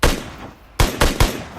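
Video game gunfire: one sharp shot, a short pause, then two more quick loud shots in close succession.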